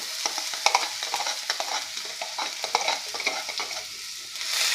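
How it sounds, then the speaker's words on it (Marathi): Thick ground spice paste for Marathi aluchi vadi, made from taro leaves, sautéed raw in a pan, giving a steady crackling sizzle with repeated scraping and stirring strokes close by and no talk. "आणि छान असं परतून घ्यायचं आहे"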